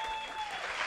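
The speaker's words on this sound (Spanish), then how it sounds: "¡Aplauso para los músicos!" A short burst of audience applause for musicians at a live television show, dense steady clapping with a faint tonal ring lingering in the background.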